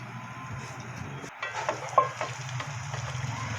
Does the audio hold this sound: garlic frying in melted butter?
yes